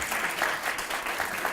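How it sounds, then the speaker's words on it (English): Audience applause for a group of authors from Baltimore at a health and wellness event, a steady wash of many hands clapping at moderate distance with no one speaking. "So I want you to begin by giving a round of applause to these authors from Baltimore who stepped up to write these books."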